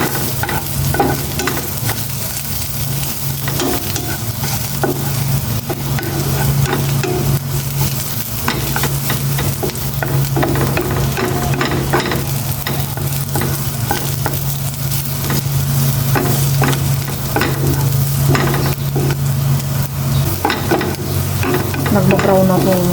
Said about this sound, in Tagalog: Nagma-brown na itong bawang.